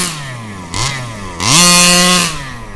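A Rovan 36cc gas engine in a Redcat Rally XR RC car, just past break-in, idles with a buzzing two-stroke rattle, then revs in two sharp rising bursts, the second loud and sustained before dropping back.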